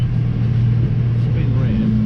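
A farm tractor engine drones low and steady as it eases down and slows to turn on the headland of a field, a constant close rumble with no talk.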